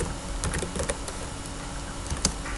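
Typing code on a computer keyboard, a quick, uneven patter of key clicks heard close over a steady background hiss, with no one speaking.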